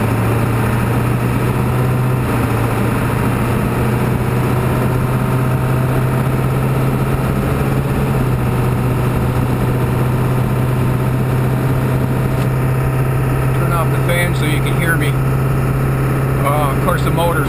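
A 2001 Ford F250 pickup with a 7.3-liter diesel rumbles with a steady low drone inside the cab, loud and constant, while a cabin fan whirs and someone speaks faintly beneath it.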